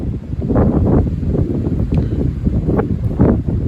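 Strong wind gusts around 80 km/h buffeting an outdoor microphone, loud rough low-pitched roaring in uneven surging bursts that rise and fall throughout, with no voices.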